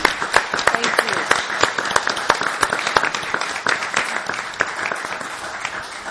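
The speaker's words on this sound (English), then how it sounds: "So I like to applaud for all 5 and for all of you one more time." An audience at a forum for Democratic candidates opposing Rep. Tom Reed applauds for several seconds. The clapping is dense and steady, gradually thinning, with voices mixed in.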